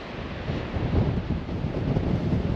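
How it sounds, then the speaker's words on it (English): Strong wind roars and buffets against the microphone on a hiking trail in Iceland, a steady, rumbling rush with no other sounds. "It's windy AF."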